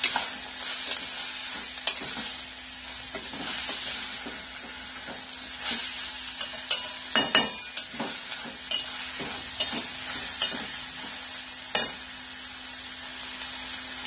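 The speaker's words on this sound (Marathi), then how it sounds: "एक 5 मिनिटं आपल्याला याच्यामध्ये भाजायचं आहे. गॅस थोडा बारीक आहे." Bitter gourd (karela) roasting in a pan over a low gas flame, a constant gentle sizzle broken by repeated scraping stir strokes and occasional sharp clinks, close and with no voices.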